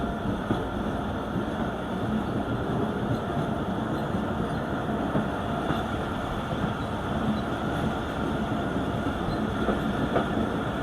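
Marvi Express passenger train in Pakistan running along the rails, a steady, loud rumble of wheels and carriages heard from on board, continuous throughout with no talking.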